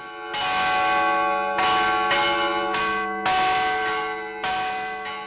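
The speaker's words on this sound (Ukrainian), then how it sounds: "прислухалися до монастирських дзвонів" Large monastery church bells ring in a steady sequence of overlapping strikes, each tone ringing on and decaying into the next, clear and resonant, with no voices.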